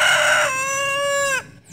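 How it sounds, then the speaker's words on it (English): A rooster crows once nearby in a backyard garden, a loud, clear cock-a-doodle-doo that rises and then holds a long drawn-out final note before cutting off. "Hey, Mr. Rooster."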